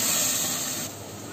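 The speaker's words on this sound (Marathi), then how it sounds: "आपण हे चिकन त्याच्यामध्ये ओतूया" Chicken being poured into hot masala in a pan over low heat, giving a brief loud steamy hiss that drops off partway through, with no talk.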